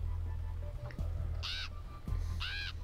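A game bird in FNaF World lets out two harsh cawing screeches about a second apart over a low droning music bed.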